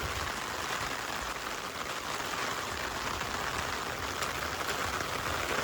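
Rain falling in Japan, a steady, even patter of drops on surfaces at moderate distance, constant throughout with no talk.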